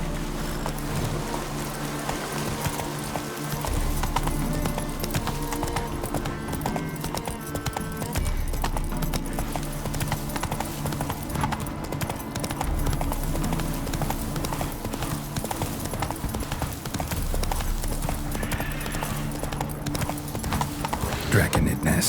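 Horse hooves gallop in The Witcher 3: Wild Hunt, a continuous fast clip-clop of hoofbeats running steadily throughout.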